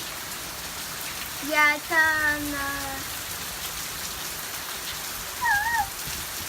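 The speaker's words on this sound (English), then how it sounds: "When it rains, it pours, huh? Look how quickly the water's building up." Heavy rain pours down in a steady, dense hiss throughout, with a few short tonal animal-like calls and a brief spoken word rising above the downpour.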